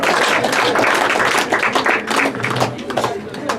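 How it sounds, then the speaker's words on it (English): Audience applause at a conference dinner in the House of Lords, a steady wash of many hands clapping filling the room, with voices mixed in underneath. "we need to give him a resounding round of applause"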